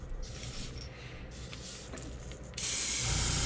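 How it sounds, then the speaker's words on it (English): An airbrush sprays paint onto a yellow perch fishing lure in short hissing bursts, then breaks into a louder, sustained spray toward the end. "So when you're spraying it, make sure you spray and keep from going all the way down"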